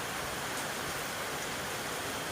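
Steady rain falls throughout, a dense, even hiss with no breaks, no voices and no other sounds, moderately loud.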